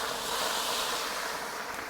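Water poured into a hot pot of toasted cumin, giving a loud, broad hissing sizzle that runs steadily through the whole short moment.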